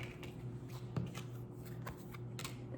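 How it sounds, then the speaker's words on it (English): Tarot cards shuffled and drawn from a deck, a soft run of papery flicks and light slaps with a sharper snap near the one-second mark, close and quiet over a steady low hum. "we're gonna pull some cards on this little section"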